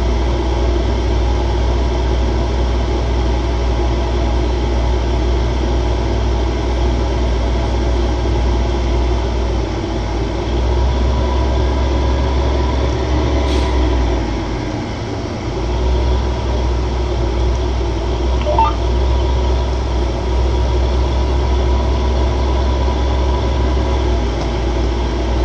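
A train rolls along steadily in Farming Simulator 2015, its loud, continuous low rumble and engine drone going on without a break and with no talking.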